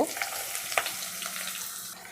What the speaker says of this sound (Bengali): পেঁয়াজ আর রসুনের ফালিগুলো ভালো করে ভেজে নিব